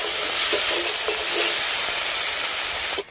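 Ginger paste dropped into a pan of frying tomato, chilli and turmeric, a steady loud sizzle and hiss with soft stirring scrapes, cutting off abruptly at the end.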